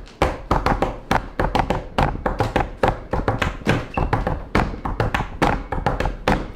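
Two hands tapping a three-against-two polyrhythm, a dense run of close, sharp taps and soft thumps interlocking in a steady repeating cycle, with no voices.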